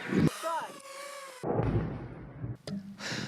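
A single mortar round fired by soldiers of the 95th Brigade at an enemy group, heard as a loud sharp blast with heavy rumbling booms following, close and dominant.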